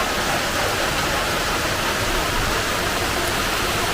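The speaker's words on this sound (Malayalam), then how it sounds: "ഇങ്ങനെ നമുക്ക് മഴയൊക്കെ നോക്കിയിരിക്കാം" Heavy rain falls outside in a steady, dense hiss, loud and close, unbroken for the whole stretch with no voices.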